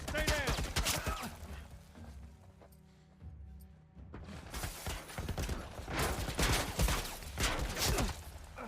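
Military turret firing in Starfield, a dense volley of rapid gunfire bursts that start close and loud, thin out for a moment, then resume in heavy repeated bursts with game sounds around them.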